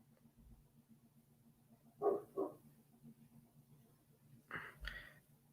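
A dog barks twice in quick succession, then gives two more barks a couple of seconds later, moderately loud indoors over a low steady hum, with no one talking.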